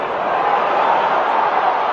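Steady, dense roar of a large football crowd at Villa Park during a 1994 Premier League match between Aston Villa and Swindon, a continuous wash of massed voices with no clear breaks.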